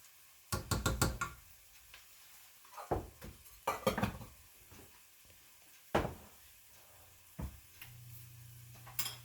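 Butter and flour roux cooking in a pan, with scattered knocks and stirring clatter of a utensil against the pan over a faint sizzle; closing with a low steady hum.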